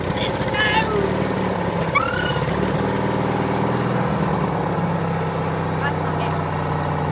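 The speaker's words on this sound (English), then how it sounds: "Tractor ride." Tractor engine running steadily through a late night ride, a continuous low mechanical drone that stays loud and even throughout, with voices talking over it.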